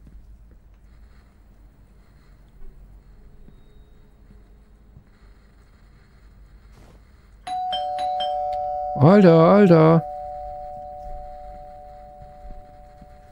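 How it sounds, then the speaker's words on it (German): A doorbell ringtone sounds in the horror video game Dead Faces, a sharp electronic chime leaving a sustained ringing tone over a low ambient hum, while a voice speaks briefly. "Ich hasse diesen Klingelton übrigens"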